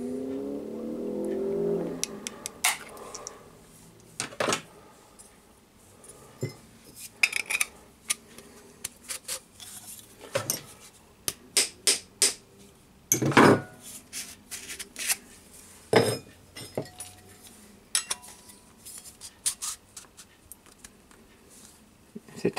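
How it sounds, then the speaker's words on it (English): Metal boiler cladding being trimmed and deburred around a hole, heard as a run of sharp, irregular clicks, scrapes and clinks from close by, with short bursts spread through the quiet stretches. "Clean the burr out of the inside too, don't forget that. It's a very quick job just to trim this up."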